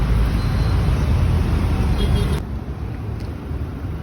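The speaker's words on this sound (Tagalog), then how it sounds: "Traffic pa rin." Steady, loud road traffic roars close by on a busy avenue, a dense wash of engine and tire noise that eases slightly partway through.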